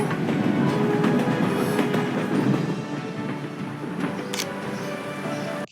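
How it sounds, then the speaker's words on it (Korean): A train passes as a sound effect, a steady rumbling clatter of wheels on rails holding loud from start to finish, with brief squeals of metal near the end. "기차 가는 소리 이런 걸 되게 많이 넣었겠네요"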